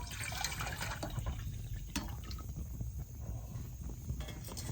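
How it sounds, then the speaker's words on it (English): Water pours into a pot on a Solo Stove, a faint, steady liquid trickle and splash outdoors under low background rumble. "let's just boil some water"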